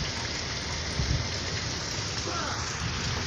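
Steady rain pours down outdoors onto parked cars in a residential area, a dense, even hiss of drops drumming on car roofs that stays constant and close throughout, with no clear talk.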